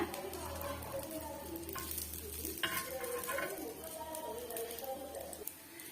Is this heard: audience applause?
no